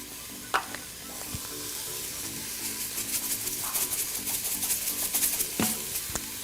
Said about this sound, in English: saute until the vegetables are a little bit soft